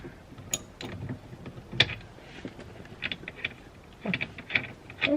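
Sparse clicks and short metallic ticks from a ratchet loosening the steering wheel bolt on a BMW F36 440i, quiet and close, in scattered bursts with small clatters between them and no talking.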